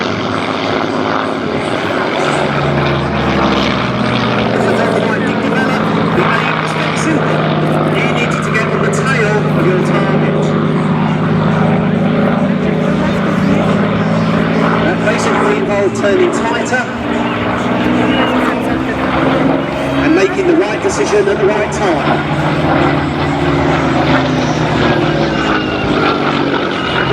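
Supermarine Spitfire propeller aircraft at the Biggin Hill Festival of Flight air show, a loud continuous engine drone rising and falling in pitch as it passes, with a voice talking over it.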